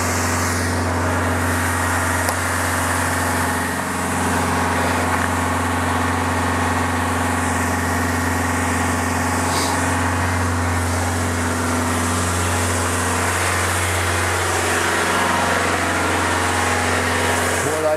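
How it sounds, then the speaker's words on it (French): A car engine with a clogged diesel particulate filter runs with its throttle locked at high revs during a home filter cleaning, a loud, steady drone that holds constant throughout. "j'ai bloqué l'accélérateur et on va le laisser tourner un peu comme ça"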